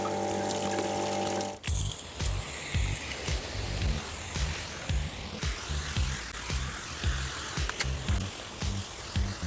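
A pump sprayer of carnauba car shampoo hisses onto a black car's cold bodywork, a steady spray after a first held tone, with a rhythmic pumping thud beneath.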